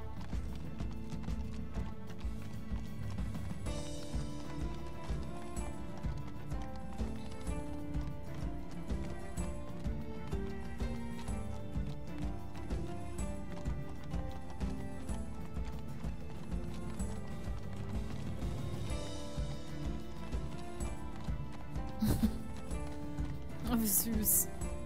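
Steady clip-clop of horse hooves from riders in Minecraft Story Mode, a continuous galloping rhythm under a music bed, with a voice talking at times.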